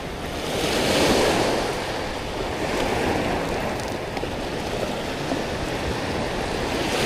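Ocean waves wash steadily onto the shore at high tide, a continuous near roar of surf with a swell building early on and some wind noise, no voices.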